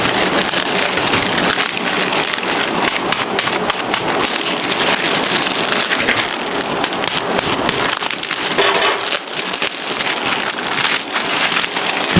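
Dry blocks of Maggi instant noodles are broken apart by hand, giving a dense, continuous crackle and crunch of snapping strands close up, with no talking.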